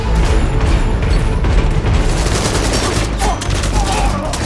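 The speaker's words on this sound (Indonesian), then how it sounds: "Jon dan Maria pun beradu tembak dengan para pasukan musuh yang ada di dalam terowongan" Dense, continuous gunfire in a film shootout inside a tunnel, with rapid bursts of shots and booming reports filling the whole stretch without a break.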